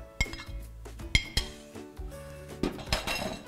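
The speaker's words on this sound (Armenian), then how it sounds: "Սա այստեղ թողնենք, վերցնենք մեր տապակը" A metal frying pan is picked up and handled in a kitchen, producing a series of sharp clinks and knocks at irregular intervals, close and fairly quiet, with ringing metallic tones.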